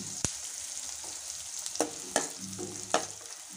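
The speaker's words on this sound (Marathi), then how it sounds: "आपण आपलं जे डिंक आहे छान असं तळून घेऊया" Edible gum pieces fry in hot ghee with a soft, steady sizzle, broken by a few sharp clinks from a spoon stirring in the pan. No voices are heard.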